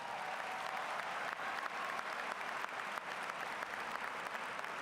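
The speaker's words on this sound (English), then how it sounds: "How about a round of applause for that?" A graduation crowd at Waterloo West High applauds in a steady, dense roar of clapping that holds evenly for the whole stretch, loud and full with no voice over it.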